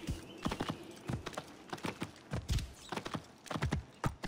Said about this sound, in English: We'll see if my horse can navigate this.